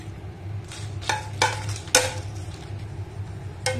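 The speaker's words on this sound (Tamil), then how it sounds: "ஒரு பேன்ல வந்து கொஞ்சமா எண்ணெய் சேர்த்து நம்ம வந்து வரமிளகா வந்து லைட்டா வறுத்து எடுக்க போறோம்" Dried red chillies roast in a little oil in a pan, giving a soft steady sizzle broken by a few sharp clinks and scrapes of a spoon against the metal, close and moderately quiet.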